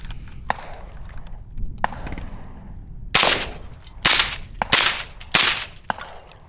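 Rifle fitted with an Omega 36M suppressor firing subsonic and supersonic rounds into dirt outdoors: a few softer early pops followed by four loud, sharp cracks spaced about a second apart.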